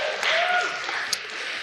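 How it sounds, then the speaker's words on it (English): Applause from a convocation audience fills the hall, a dense wash of clapping that holds steady for under two seconds without any talk. "you can clap for that"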